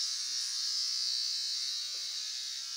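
Electric hair clippers buzz in a steady, high-pitched whine while shaving off hair, continuous and close with no pauses or talk.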